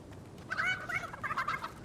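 Synthetic chicken clucks and squawks from Fortnite, a short burst of bird calls over steady background noise.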